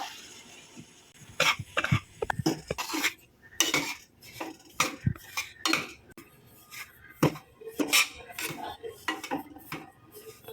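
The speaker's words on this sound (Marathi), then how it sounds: "रवाना भाजते वेळी सारखा असा ना आपण चमच्याने हलवत राहायचं नाहीतर काय होईल रवा खाली लागला जाईल" A spoon stirring fine semolina as it dry-roasts in a hot wok, with repeated scraping and clanking strokes in an uneven rhythm, close and fairly loud, with a possible cough in between.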